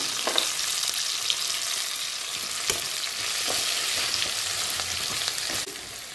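Steady hissing sizzle of drumstick pieces, curry leaves and green chillies frying in a pan for a tamarind curry, with occasional sharp spoon scrapes and taps.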